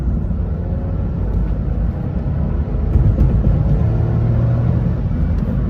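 A Maruti S-Presso's engine drones steadily in third gear while driving, a continuous low rumble with road noise that swells slightly midway, no voices.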